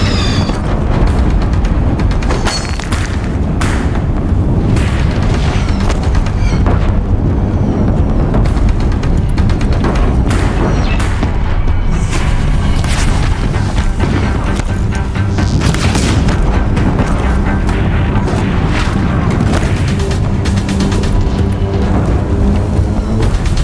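Deathbringer machines fire explosive shots in Horizon Zero Dawn: loud, continuous booming blasts and rumbling explosions crowd the whole stretch without letup.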